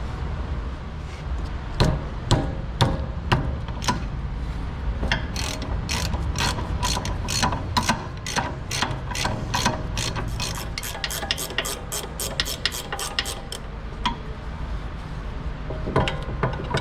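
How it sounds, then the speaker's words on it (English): A ratchet loosening the caliper bracket bolts on a car's steering knuckle during a brake fluid leak repair, a close run of rapid sharp metallic clicks in bursts, speeding up in the middle before stopping. "I'm just gonna go through and loosen these two caliper hangers."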